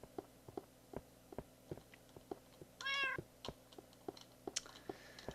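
A single Minecraft cat meow rings out midway over a steady rhythm of soft footsteps, with faint chimes later; no talking.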